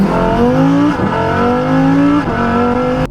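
A Lamborghini Huracan EVO's mid-engine V10 roars steadily at high revs, its pitch climbing and dropping in a few quick surges before cutting off sharply at the end.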